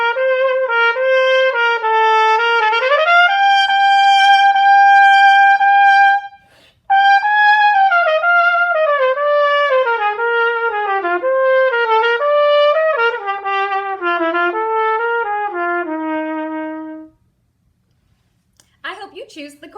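Cornet playing a melody of smooth connected notes that rise and fall, bright and close, with a short break partway through, then a brief gap and a faint new sound at the end.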